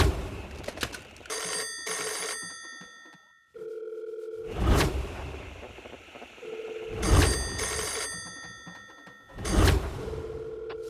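Bursts of a phone ringing repeat between steady dial-tone-like tones, punctuated by several loud thumps or knocks; no voices.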